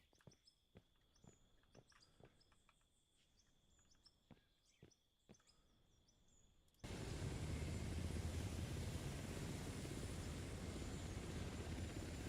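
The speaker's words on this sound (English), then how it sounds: "Whoa, that helicopter managed to fly down here." A helicopter in the mining video game Out of Ore, a loud continuous rotor roar that cuts in abruptly halfway through, following quieter ambient game sounds with bird chirps and clicks.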